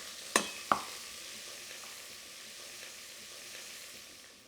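Ginger dropped into a pan of caramelised onions for a Vietnamese coconut braised pork belly, giving two sharp clacks and then a faint, steady frying sizzle, with no talk.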